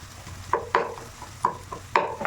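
Tomato added to onion, garlic and roasted eggplant frying in a pan for an eggplant mash, heard as a light sizzle under several sharp scraping strokes of a spoon at an irregular rhythm, close by, with no talking.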